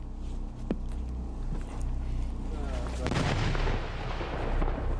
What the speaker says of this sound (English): So this big gun that's firing now, it's not a cannon, it's a recoilless rifle.